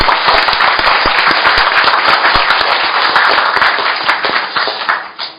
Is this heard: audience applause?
yes